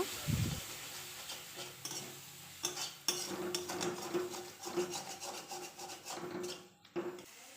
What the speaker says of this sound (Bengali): ঢাকা উঠিয়ে মশলাটাকে ভালো করে ভেজে নেব